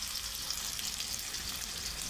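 Tomatoes and masala, with a few cashews, frying in oil in a pan: a faint, steady sizzle and crackle throughout with no pauses.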